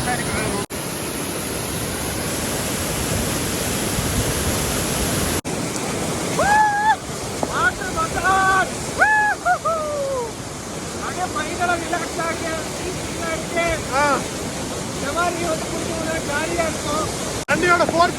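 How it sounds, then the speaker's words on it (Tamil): Rushing water at Oliyappara waterfall in Kerala roars as a loud, continuous wash of noise, with wind buffeting the microphone and people talking over it. "தண்ணியோட ஃபோர்ஸ் பாத்தீங்களா?"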